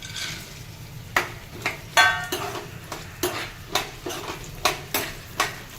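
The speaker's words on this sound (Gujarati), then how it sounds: "આપણું ઘી ગરમ થઈ ગયું છે, એની અંદર આપણે હવે પહેલાં બદામ નાખશું." Almonds drop into hot ghee in a pan, giving a steady low sizzle with a series of sharp spoon-and-pan clinks and scrapes at a rough, uneven rhythm, close up and with no talking.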